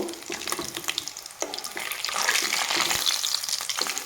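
Papad dolma frying in hot oil in a pan at home, a steady bubbling sizzle with faint spatter, close and continuous, growing slightly louder toward the end with no talk.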